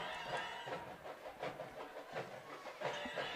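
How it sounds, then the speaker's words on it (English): A train starts to pull away somewhere below, a faint distant rumble with soft clacking and hissing under crowd noise at a high school football game. "Sounds like that train's starting to take off down there."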